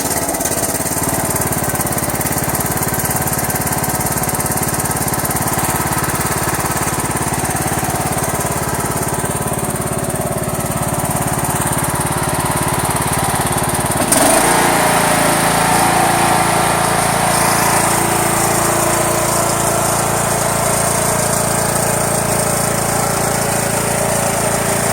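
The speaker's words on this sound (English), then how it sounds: "It definitely sounds like a large single cylinder." A riding lawn tractor with a large single-cylinder engine runs steadily and loudly up close, a constant droning roar with a sudden shift in pitch and load about midway through, and no talking.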